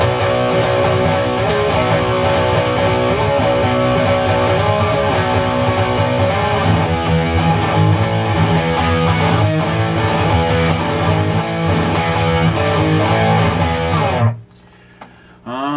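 Thick, distorted electric guitar chords ring out in a driving riff for about fourteen seconds, then cut off abruptly into near silence.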